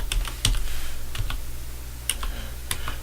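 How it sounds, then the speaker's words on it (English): Computer keyboard being typed on while entering a network command on an interface, a quick run of close, crisp key clicks in short bursts with brief pauses, no talking. "And we're going to type in"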